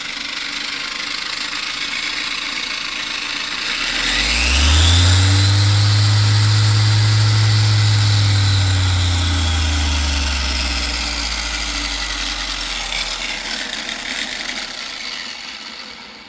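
Cordless 6-inch OLMLMO electric buffer polisher switched on, its motor swelling into a loud, steady whine that holds for several seconds, then slowly winds down, close by with no talking.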